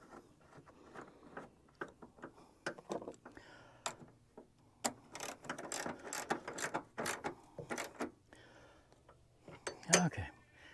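A ratchet tightens the battery terminal on a Mahindra tractor, delivering quick rapid clicking bursts in irregular runs, close and crisp.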